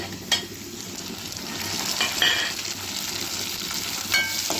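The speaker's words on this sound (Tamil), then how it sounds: "தக்காளி பழம் நல்லா வதங்கிடுச்சு" Chopped tomato sautés in a pan for a Tamil-style salted dal, giving a steady close sizzle with occasional scraping stirs and a few light utensil taps.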